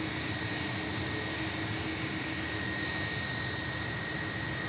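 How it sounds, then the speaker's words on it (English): Heavy jet airliner engines roar steadily through a departure at an airport, a loud, continuous broadband rumble with a sustained whine on top, no voices over it. "Another lovely heavy departure coming up."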